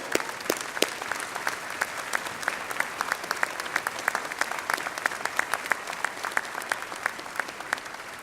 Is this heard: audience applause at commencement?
yes